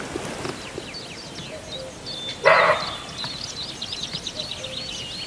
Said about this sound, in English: Sounds like a dog, but that's actually a deer.